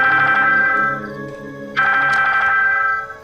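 A phone rings steadily with a bright repeating electronic tone, pausing briefly before ringing again, loud and close with a low background hum.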